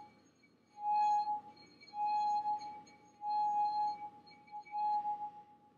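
A singing wine glass, its rim rubbed by a finger while it rests on a firm surface, rings out in four sustained pure tones with short pauses between them, clear and close with no voices.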